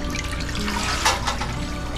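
Water pours steadily from a garden fountain with spouts shaped like wine bottles, a continuous close splashing trickle on an outdoor patio.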